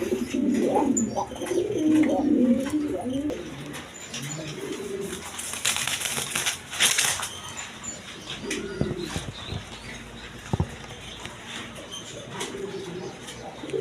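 Pigeons coo at a home loft selling breeding pairs with eggs and chicks, soft repeated low calls rising and falling with a few wing flaps and other birds, close and moderately loud, with some talk in the background.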